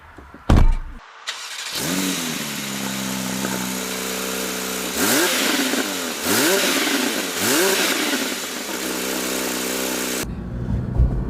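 A Porsche 911 GT3 with a 510 PS engine, heard up close, starts with a sharp bark and then revs hard in repeated rising and falling sweeps over a loud, raspy idle before cutting off abruptly.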